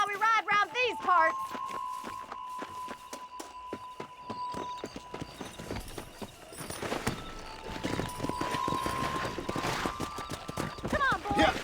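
Horses clip-clopping and galloping in a race in Red Dead Redemption, rapid hoofbeats building and continuing under music and a few lines of talk.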